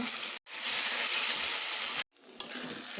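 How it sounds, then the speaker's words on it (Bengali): Spice paste with turmeric, salt, a little sugar and a splash of water sizzles and fries loudly in a pan for a thin Bengali foli fish curry, stirred steadily, with two brief breaks in the hiss. "দেখুন মশলাটা কষানো হচ্ছে"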